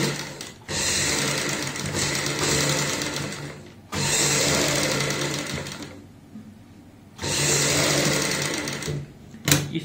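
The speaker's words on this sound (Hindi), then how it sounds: "सिलाई लगाएंगे हम इस तरीके से।" Sewing machine stitching pintucks into a lace-trimmed neck design, running in three steady, loud bursts of a few seconds each, with brief quiet pauses between runs.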